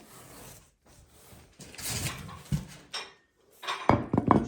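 Round dishes and pots are carried and handled, giving irregular clinks, knocks and scrapes of crockery that grow louder toward the end, with no talk.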